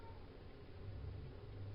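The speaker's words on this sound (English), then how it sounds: "the cat is meowing" A cat meows faintly in a kitchen, a low drawn-out cry barely above a steady background hum.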